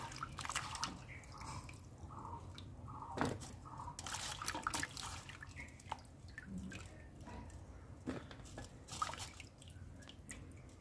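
Water drips and trickles as it is drained off salted, sliced raw mango, with soft irregular splashes and taps close by in a quiet kitchen.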